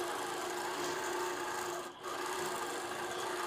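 A sewing machine stitches yarn onto a quilt, giving a steady, continuous mechanical whir with a brief dip partway through.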